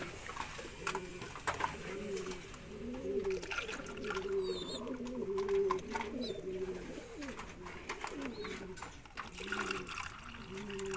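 Pigeons coo steadily inside a breeder cage, low repeating warbling calls overlapping throughout at moderate loudness, with faint higher chirps and background noise.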